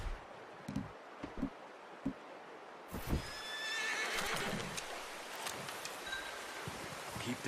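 A horse in the Red Dead Redemption 2 video game whinnies loudly in the middle of an outdoor scene, after a few soft hoof clops and rustling, with light ambient noise continuing afterward.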